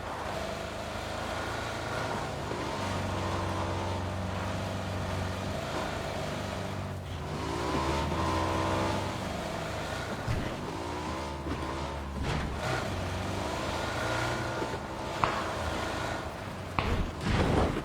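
A car engine drones steadily and rises as the vehicle passes nearby, its pitch sweeping up and down, with a few faint clunks near the end.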